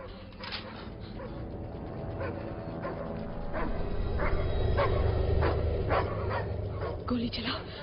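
Dogs bark and yip in short bursts amid a noisy, busy action-movie scene with Hindi-dubbed people talking over a low rumble.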